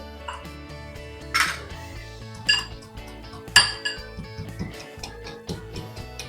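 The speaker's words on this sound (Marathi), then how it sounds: "आता लसूण घेऊयात लसूण ठेचून घेऊयात" Garlic crushed for an Agri-style mutton dish, a series of sharp knocks and clinks of metal and stone against kitchenware, some louder and uneven, close by and with no talking.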